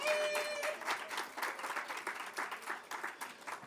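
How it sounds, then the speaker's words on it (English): Applause from an audience at a youth session during a climate conference, a steady wash of many hands clapping with a few louder claps standing out near the start, continuing for several seconds without talk. "Let's give her a round of applause."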